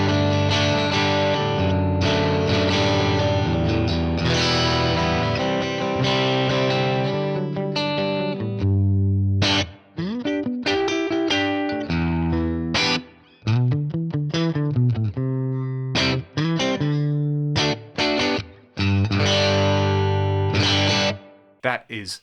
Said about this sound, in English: I'm using the Princeton reverb model with the matching Dynacab at the moment